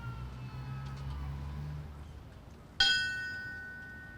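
A memorial bell is rung once at an outdoor fallen firefighter ceremony in Edmonton, Alberta. A low vehicle engine idles first, then a single bright clang follows and its tone slowly rings out.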